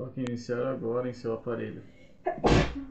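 A single loud, sharp sneeze bursts out near the end, following a stretch of Portuguese speech from a phone's text-to-speech voice giving screen-mirroring instructions.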